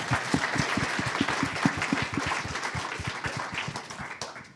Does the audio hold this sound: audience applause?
yes